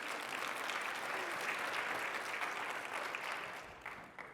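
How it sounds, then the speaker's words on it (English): Steady applause from an audience honoring speakers at a public health data talk, a dense sustained patter that holds throughout and thins slightly toward the end. "Let's start off with a round of applause for our speakers."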